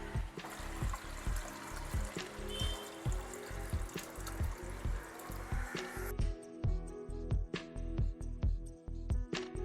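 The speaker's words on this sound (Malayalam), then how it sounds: "ഇപ്പോൾ നമ്മൾ വെള്ളമൊക്കെ ഒഴിച്ചു" Water runs and trickles into a clay pot being readied for a homemade bamboo water fountain, a soft, close, uneven splashing with repeated light knocks and clinks throughout, fairly quiet.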